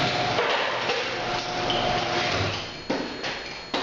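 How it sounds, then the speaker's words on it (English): A garage door being closed by its electric opener rolls with a continuous mechanical rumble and rattle, ending with a couple of sharp clunks as it travels down. "another way to test this is to close the door"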